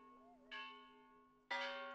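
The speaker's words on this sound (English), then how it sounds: "from that time, the bells keep ringing" Church bells ringing in Teotitlán del Valle, two bright metallic strikes about a second apart whose long ringing tones sustain and overlap over a steady hum, fairly distant and quiet.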